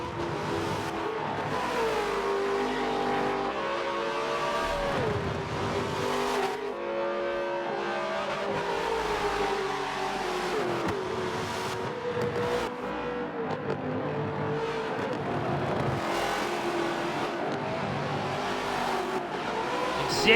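A Ford Falcon supercar races at Bathurst in a racing video game, its engine roaring continuously with shifting pitch as it accelerates and brakes, tyres squealing at times, loud and close throughout.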